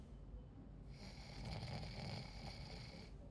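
A character sleeping in Spider-Man: Miles Morales snores steadily, with a breathy, rasping snore that grows louder partway through and holds to the end, heard alone without speech.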